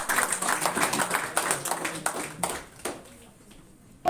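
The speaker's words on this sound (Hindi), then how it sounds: "अरे ताली तो जोर से बजाओ भाई।" Audience clapping at a Bihar judiciary toppers seminar held by Pahuja Law Academy in Mukherjee Nagar, a dense patter of claps running steadily for about three seconds before thinning out into quiet, with a faint isolated tap near the end.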